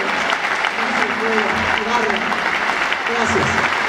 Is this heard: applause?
yes